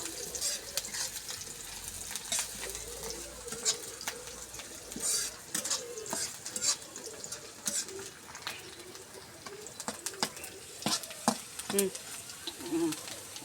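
Aubergine and beef ghati is stirred in a pan with a quiet sizzle and scattered scraping clicks of a spatula, fairly faint, with birds cooing faintly in the background.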